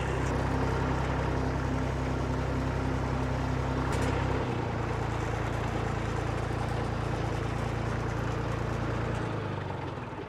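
A tractor winching loaded logs uphill through a forest, its diesel engine droning loud and steady the whole time, with a shift in the low rumble partway through.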